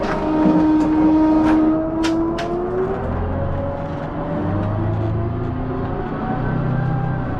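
A bus engine runs close by with a steady, loud mechanical rumble, and its pitch shifts slightly as the engine revs and settles. The bus has steering and starter problems.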